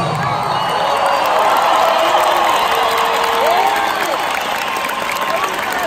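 Large concert crowd at a show in Bogotá roaring with sustained applause, cheers and whistles, dense and continuous throughout, with shouts rising out of the wash.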